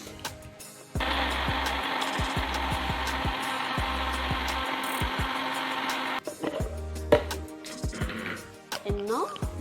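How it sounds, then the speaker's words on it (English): A kitchen blender whirs loudly and steadily for about five seconds, blending a cooked cornstarch popsicle mixture, then stops, followed by light clatter and a brief voice. "we're gonna blend this"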